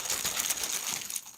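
Board game tokens for Gloom of Kilforth are shuffled in a bag, a soft, quiet rustling and clicking that continues throughout.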